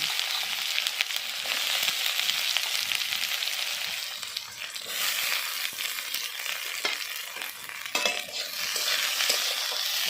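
Chopped onion frying in hot oil tempered with a dried red chilli and a pinch of nigella seeds, stirred steadily; a loud, dense, continuous sizzle with scraping stir strokes, no voices.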